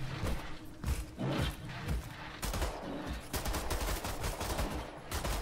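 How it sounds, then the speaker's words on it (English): Rapid gunfire from the shooter game Wolfenstein: The New Order, dense repeated bursts of loud shots with thumping impacts, nearly continuous throughout. "Try shooting it."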